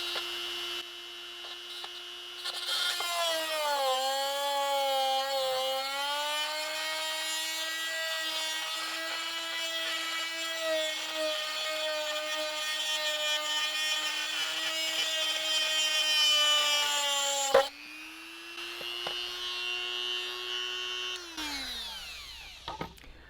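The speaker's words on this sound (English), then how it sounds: "As you can see, we've got 1 hole drilled." A small drill bores a hole through a 1/32 scale Porsche 356 Speedster model chassis, giving a steady high whine that dips briefly, runs on for about fifteen seconds, cuts out, then spins back up and winds down.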